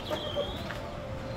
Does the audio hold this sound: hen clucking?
yes